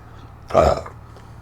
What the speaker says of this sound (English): Just occasionally burping.